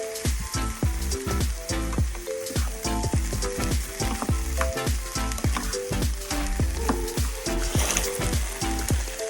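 Vegetables including cabbage stir-fry for vegetable soup, loud continuous sizzling and crackling with rapid popping spatters throughout, close up, without any talk.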